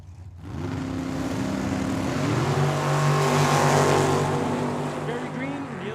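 Drag racing cars, including a Camaro, roar off the line at Tucson Dragway, a loud sustained engine blast that swells and holds before easing, heard from the track side.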